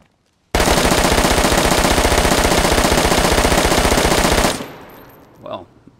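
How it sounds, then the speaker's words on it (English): An M4 rifle with a 60-round magazine fires on full auto in the game DayZ, a loud, rapid, unbroken burst of about four seconds that stops abruptly, followed by a faint trailing sound. "That was a M4 with a 60 round standard mag."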